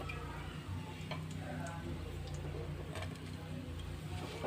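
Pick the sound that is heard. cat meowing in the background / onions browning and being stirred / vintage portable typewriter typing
onions browning and being stirred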